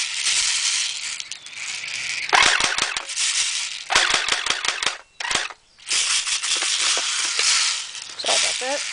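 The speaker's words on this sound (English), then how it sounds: "I'm going to do my P90 shooting test. I'm shooting at that blue umbrella right there." A Well P90 airsoft submachine gun fires BBs outdoors in several sharp bursts of rapid clicking shots, loud and close, separated by short pauses.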